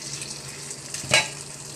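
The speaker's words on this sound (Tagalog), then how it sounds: "Saute lang natin guys." Ground pork sautéing in a pan, a low steady sizzle with a short louder burst of hissing and stirring near the end.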